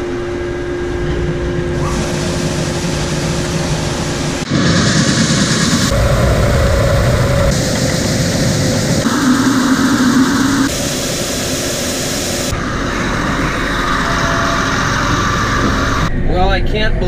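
Two farm tractors run steadily during a corn harvest, a continuous engine drone with shifting blocks of loudness, people talking over it throughout.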